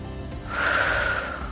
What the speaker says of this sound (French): on prend des grandes respirations encore une fois